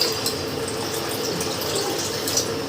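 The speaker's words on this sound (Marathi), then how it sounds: "याच्यामध्ये 1 ग्लास पाणी ओतायचं" A glass of water poured into a pot of milk, a steady continuous splashing pour heard close and alone for a few seconds.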